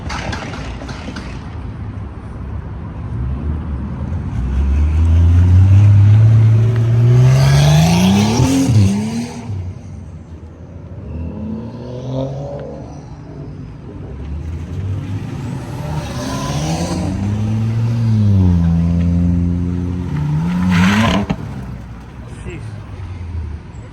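A Nissan GTR at a car meet revs hard and pulls away, its engine rising through repeated loud sweeping gear pulls with some tire noise, while people talk and shout nearby over the car.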